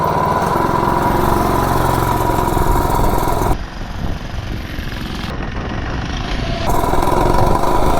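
Cammed 98cc mini bike engine with billet parts revving loudly and continuously, pitch rising under acceleration with a brief dip mid-run before climbing again, close up and unaccompanied by talk.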